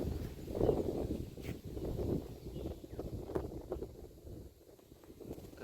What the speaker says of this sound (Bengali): বাইরে বেশ হাওয়া